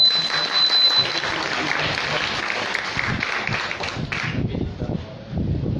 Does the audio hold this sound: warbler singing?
no